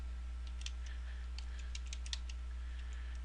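Quick, light keystrokes on a computer keyboard, a few clusters of soft clicks over a steady low electrical hum, fairly faint and with no voices.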